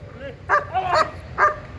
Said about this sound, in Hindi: देखिए डॉग उसको भौंक के बोल रहा है कि कहीं जाने नहीं देगा उसको